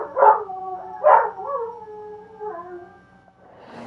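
A dog howls twice in long, wavering cries, each trailing off into lower moans, followed by a faint bark at the end, heard alone over a low hum.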